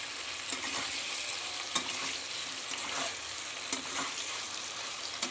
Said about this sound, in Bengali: এবার একটুখানি কিছুক্ষণ সময় ধরে একটু ভেজে নিই আলু আর কাঁকরোলটা।